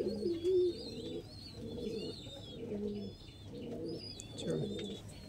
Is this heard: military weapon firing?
no